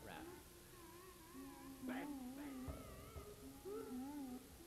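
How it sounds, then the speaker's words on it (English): A cat meows several times in quick succession, its wavering, drawn-out calls faint and fairly close against a quiet background. "Cat."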